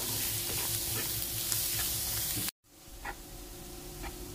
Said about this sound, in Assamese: এয়া আদা নহৰু পিয়াজখিনি ধুনিয়াকৈ মোৰ ভাজি লোৱা হৈ গল